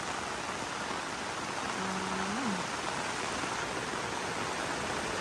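Heavy storm rain pours down as a loud, unbroken hiss that holds steady from start to finish, with a faint brief tone passing in the middle.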